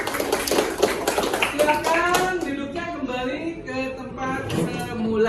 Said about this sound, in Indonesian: Oke, tepuk tangan buat kita semua.